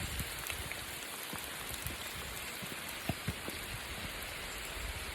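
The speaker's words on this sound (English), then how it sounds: "Hey, now it's hard raining." Heavy rain pours steadily on a mountain trail, a dense, continuous hiss with scattered close drips and taps on nearby surfaces, with no talking.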